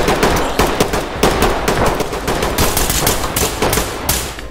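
Rapid automatic gunfire rattles in dense, loud bursts during a tactical shooter match of Ready or Not, with no break in the shooting.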